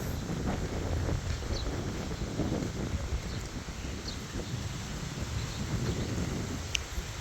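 A strong, cold wind blows steadily through a vegetable garden, making a broad continuous rush with gusts and rustling, loud and close to the microphone, with no clear talk.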